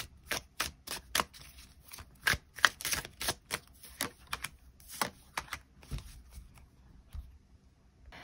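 Tarot cards are shuffled by hand in a quiet room before an extra card is drawn, a soft run of crisp riffling flicks and taps in an uneven rhythm, close up and alone.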